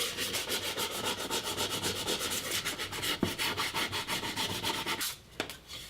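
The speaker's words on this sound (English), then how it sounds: "Now I'm going to use 80 grit sandpaper to shape the sides." Wooden harvest basket sides being shaped with 80 grit sandpaper: steady, rhythmic rasping strokes close by, continuing for about five seconds before a short pause and a couple of light knocks.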